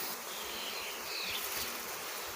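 A steady, droning hum of a bee swarm buzzing together, continuous and fairly close, with no voices over it.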